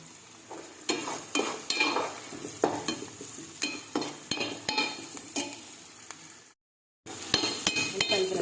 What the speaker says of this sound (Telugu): ఉల్లిపాయలు ఫ్రై అవుతున్నాయి